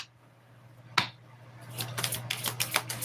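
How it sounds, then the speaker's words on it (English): Tarot cards being shuffled by hand: a single sharp slap near the start, then a rapid run of crisp, papery riffling clicks building up toward the end, close and fairly quiet over a steady low hum. "let's shuffle again"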